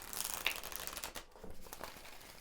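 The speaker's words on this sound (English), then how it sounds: "I'm just shuffling because we'll end up using all the decks" Several tarot card decks being shuffled by hand up close, giving a steady papery rustle and flutter of cards for about two seconds.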